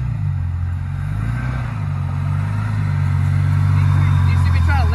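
Jeep Cherokee XJ engine idling and driving off after being shifted from neutral through reverse into drive, a steady low rumble that swells slightly toward the end, with people talking over it.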